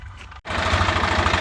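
A tractor engine idles steadily nearby on a farm with a low throbbing rumble, cut by a brief dropout before the steady running resumes, with no voices.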